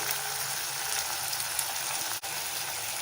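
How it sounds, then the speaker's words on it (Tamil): Chopped tomatoes salted in a pan for veg salna sizzle with a steady, close, hissing fry and one brief knock partway through. "தக்காளி நல்லா வதங்கி வரட்டும் தக்காளி வதங்கிறதுக்கு உப்பு சேர்த்துக்கலாம்"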